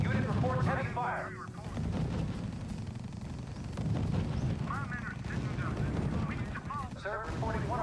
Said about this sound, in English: Unit reports heavy fire.